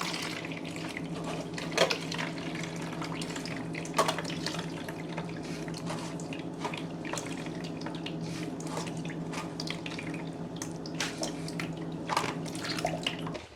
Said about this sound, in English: Now I'm gonna strain it into this container right here.